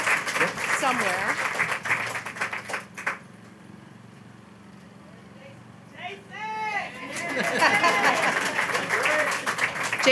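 Audience applause at a women's center groundbreaking ceremony, a burst of clapping that stops, then after a lull with a few whistle-like chirps and voices, swells again into sustained clapping from a crowd.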